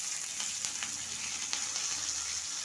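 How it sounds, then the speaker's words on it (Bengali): Split green chillies and bay leaves tempering in hot oil, a steady close crackling sizzle with scattered pops running throughout, no voices. "চেরা কাঁচা লঙ্কা, তেজপাতা ফোড়ন দিয়ে দিলাম"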